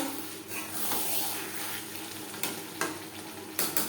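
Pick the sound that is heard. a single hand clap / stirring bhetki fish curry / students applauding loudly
stirring bhetki fish curry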